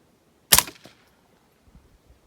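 A single sharp rifle shot rings out at a shooting range during red dot sight testing, loud and close, with a short echo tail and a few faint thumps afterward.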